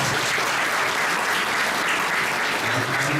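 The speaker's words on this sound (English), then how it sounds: "So just give a big round of applause to him" A round of applause from a seminar audience at a national science seminar's valedictory session, thick and continuous and fairly close, with no voices on top.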